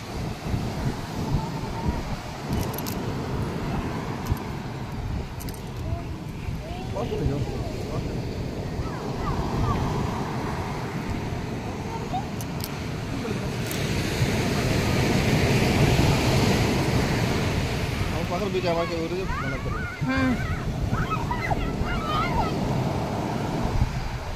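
Sea water and waves wash steadily around a boat, with constant wind rumble on the microphone and faint voices in the background.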